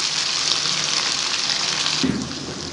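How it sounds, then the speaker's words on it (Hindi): Water is added to tomato masala frying in a pan for keema chana pulao, giving a steady close hiss and sizzle that softens and turns bubbly near the end, with no talking. "हल्का सा पानी ऐड करते हुए यहाँ पे हम इसकी भुनाई कर लेंगे टमाटरों की अच्छे से।"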